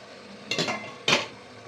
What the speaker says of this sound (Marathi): आता आपण ही जी प्लेट आहे ही ठेवून घेऊया.